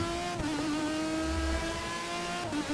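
Aston Martin and BMW race cars engines revving hard with loud, sustained engine drone and gear changes, sharp shifts punctuating the steady roar alongside another car.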